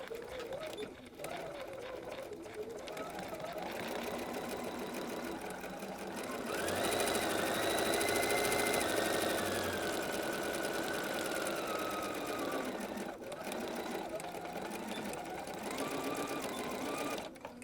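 A sewing machine stitching rag quilt fabric runs in a steady mechanical whir, speeding up and growing louder in the middle, then slowing as stitching continues.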